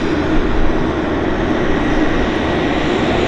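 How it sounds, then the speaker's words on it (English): A Pacific Coastal Beechcraft 1900 turboprop taxiing out at Vancouver airport, a steady broadband engine roar with low rumble held at an even, fairly loud level throughout, no voices. "Pacific Coastal Beach 1900 taxiing out."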